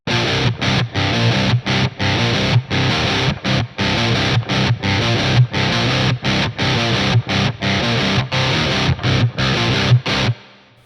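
Heavily distorted electric guitar in drop C tuning plays an intro riff, loud and close, with a driving rhythm of chugging bursts broken by short rhythmic gaps, stopping abruptly near the end.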